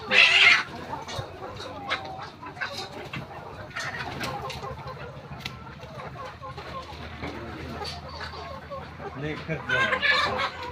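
Sonali-breed desi hens cluck intermittently around a free-range farmyard, with a few louder squawks near the start and end and low murmuring in the background.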